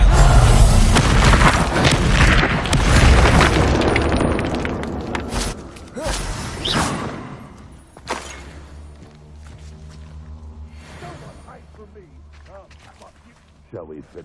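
A Reducto spell blast in Hogwarts Legacy: a loud booming explosion with crashing, shattering debris up front, fading into scattered thumps and footsteps.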